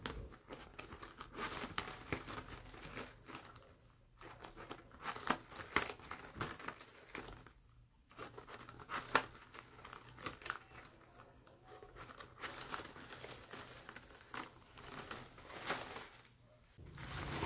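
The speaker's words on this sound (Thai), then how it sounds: "เส้นที่อยู่หลังเส้นสีชมพูเส้นบนสุดให้ดึงแล้วก็พับเก็บลงมาแบบนี้หมดทุกเส้นเลยค่ะ" Pink plastic strips are pulled and folded while a bag is woven by hand, giving a continuous crinkling and rustling, close and fairly busy, with a few brief pauses and no talk.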